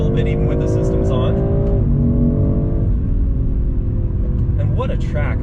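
A BMW M340i xDrive is driven hard on a racing circuit, its engine droning loudly and steadily with shifting pitch as the car slides, close and dominant throughout.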